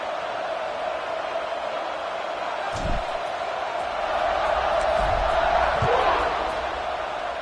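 A college football stadium crowd keeps up a steady roar after a touchdown, a broad sustained din with a few low thumps partway through and a swell toward the end, while a commentator talks over it.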